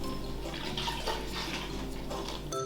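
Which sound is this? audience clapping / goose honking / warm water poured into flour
warm water poured into flour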